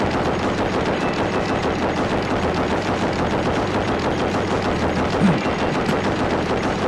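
Remote turret gunfire in the Rust game, a loud, continuous rapid automatic rattle of shots sustained without a break.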